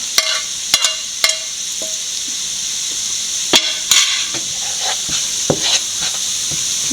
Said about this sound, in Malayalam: പൊടിച്ചു വെച്ചിരിക്കുന്ന ബീഫ് നല്ലപോലെ വഴറ്റി കൊടുക്കുക